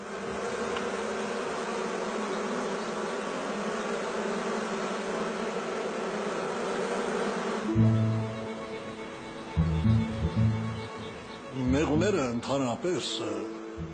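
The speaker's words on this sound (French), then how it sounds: "ils ont réussi à faire revivre l'abeille jaune arménienne" Armenian yellow honeybees hum in a steady, dense buzz of a swarm for several seconds, then other sounds and a voice break in over a fainter drone.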